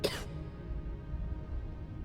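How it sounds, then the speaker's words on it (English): A Starfield character coughs once, a short harsh burst at the very start, then only a low ambient hum remains. "That cough doesn't sound good."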